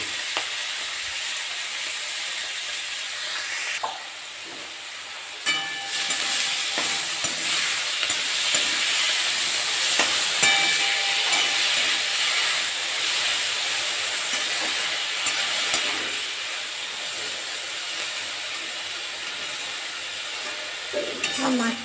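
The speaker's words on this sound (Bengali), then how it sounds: "আমি মাছটা ভাজতে দিয়ে দিচ্ছি" Fish fries in a pan with a loud, continuous hiss and sizzle that runs throughout, with occasional small crackles and bumps, with no talking.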